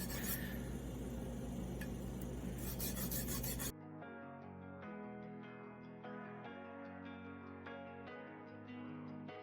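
A coarse file rasps hard across a freshly fabricated part that is still soft, giving about four seconds of loud, dense grinding strokes before dropping to quieter, lighter rubbing for the rest; no speech.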